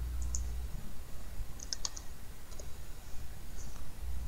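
A handful of sharp, isolated clicks from a computer keyboard, spaced irregularly as a short word is typed, heard close against a low background hum.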